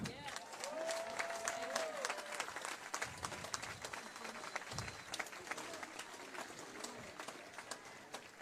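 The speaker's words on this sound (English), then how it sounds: "Go ahead and clap. Show some love." Sustained crowd applause at an outdoor gathering for Black lives, steady and fairly distant, continuing for several seconds with a few faint voices underneath.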